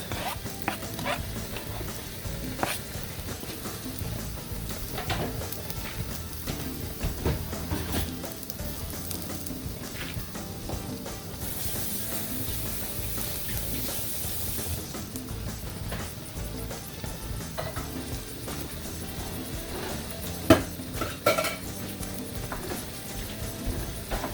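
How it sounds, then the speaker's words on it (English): Onions frying in an already hot skillet give a steady, low sizzle that runs on without a break. A few soft clinks and knocks rise above it now and then, and nobody speaks. "add the onions and cook for a couple minutes"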